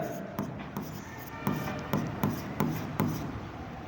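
Pen strokes on paper while writing out a figure by hand, a few distinct taps and scratches marking the digits, close and quiet, with no voices.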